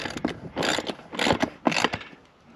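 Bolts being tightened with a ratchet on transom wheels fitted to an inflatable boat, three or four quick clicking bursts in a brisk rhythm, close and moderately loud.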